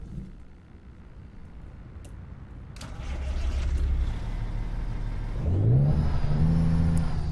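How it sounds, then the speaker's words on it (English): Cummins engine in a Peterbilt 357 heavy-haul truck in American Truck Simulator, idling low, then swelling into a steady rev around three seconds and climbing again with a rising whine near the end. "So there's a different sound there for the Cummins"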